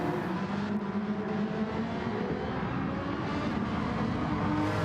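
A Porsche race car in a racing video game, lapping the Interlagos circuit: a constant, loud, close engine drone with a steady high whine, holding level throughout without clear passes or pauses.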